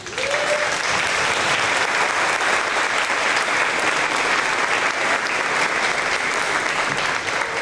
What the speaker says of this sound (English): I also want to give you a round of applause.